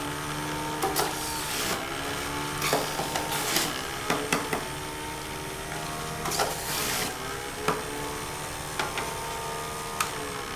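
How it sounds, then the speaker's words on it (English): Omega 4000 centrifugal juicer spinning at 5,200 RPM while juicing apples, a steady motor whine punctuated by repeated knocks and clatters as fruit is fed in, with no one talking. "that's how easy it is to juice with the Omega 4000 juicer"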